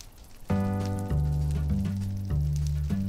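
Udon noodles boiling in a pot in the Minecraft video game, a steady bubbling, sizzling wash with layered tonal game sounds cutting in at intervals, fairly quiet and without speech.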